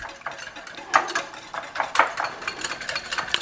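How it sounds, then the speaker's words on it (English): A regular wire whisk beats keto pancake batter in a bowl, making a quick, light series of close clinks and taps with faint scraping between them, with no voice. "we're getting this all mixed up with just a regular whisk today"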